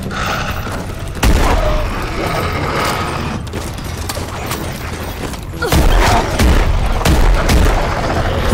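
Gunfire against zombies in Call of Duty Zombies on the Carrier map: loud, close bursts of rapid shots in two main volleys, with mechanical clatter and a few booms between them.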